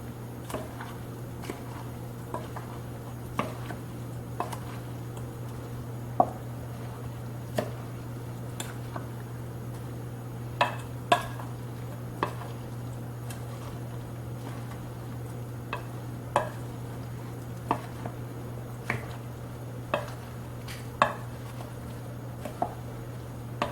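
A rubber scraper or spoon stirs a salsa mixture in a bowl, giving soft repeated scrapes and light taps in an irregular rhythm over a steady low hum, close and fairly quiet with no talking.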